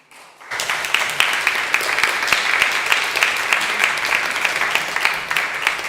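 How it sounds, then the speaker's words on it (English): After a brief quiet, a church congregation breaks into applause at the end of a sermon, close and steady clapping from many hands sustained to the end. "y'all didn't have to applaud"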